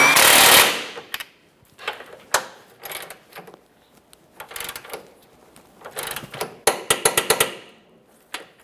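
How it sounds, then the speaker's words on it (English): Tightening the forward mounting bolt on a 2014-2019 Toyota Corolla's front lower control arm brings close metallic clicks and bursts of ratcheting, with an irregular pattern and a quick rapid run near the end, no voices. "We'll start with the forward mounting bolt. Snug it up."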